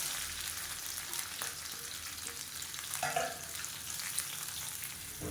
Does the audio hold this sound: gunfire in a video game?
no